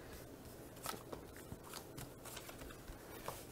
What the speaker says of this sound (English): Shuffle my cards.